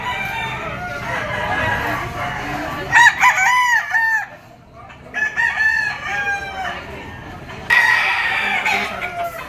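A rooster crows several times close by, with drawn-out calls and clucks over a noisy outdoor background. The birds are gamecocks, including a white-legged Talisay bull stag, offered for sale.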